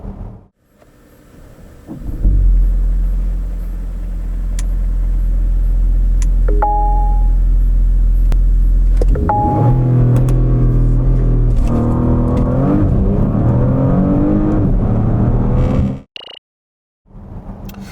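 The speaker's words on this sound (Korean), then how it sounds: "여기서 잠시 발진 가속 성능도 볼까요?" A 2020 Porsche Panamera 4 E-Hybrid makes a hard launch from standstill: a low hum builds into a loud, rising engine roar with a gear change midway, then cuts off sharply.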